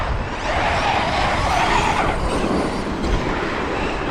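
A Traxxas Super XRT RC truck with a Hobbywing Max5 G2 system drives hard and tears up the ground nearby, a loud, continuous roar of motor whine and churning dirt with slight surges.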